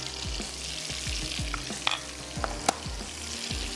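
Prawn masala frying in a karahi with turmeric, salt and red chilli powder, a steady close sizzle with repeated scrapes and stirs of a spoon against the pan, no voices.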